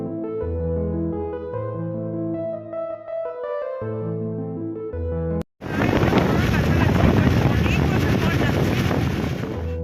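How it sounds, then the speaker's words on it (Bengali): Strong wind buffets the microphone outdoors on a rough road during a family outing, a loud continuous roar taking over the second half right after a stretch of music. "জানি না কতটা শুনতে পাচ্ছ, কারণ প্রচুর পরিমাণ হাওয়া চলছে"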